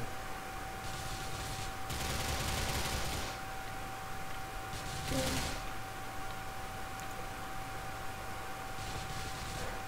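Bursts of gunfire rattle through a GTA 4 game scene, with a couple of dense fusillades standing out against steady background noise and a constant hum.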